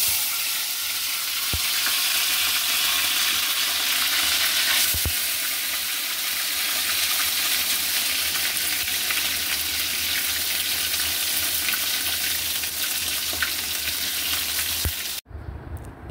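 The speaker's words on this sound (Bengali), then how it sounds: "এবার মাছগুলোকে ভেজে নিব।" Fish fries in hot oil in a kadai, giving a loud, steady, close sizzling hiss that holds evenly for about fifteen seconds and then cuts off abruptly near the end.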